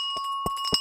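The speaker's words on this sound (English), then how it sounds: "We've got the London Stock Exchange opening bell." London Stock Exchange opening bell sounding as three separate rings with sustained high tones, moderately loud, with no talk over it.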